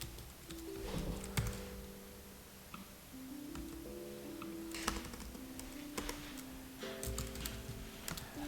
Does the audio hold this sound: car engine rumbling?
no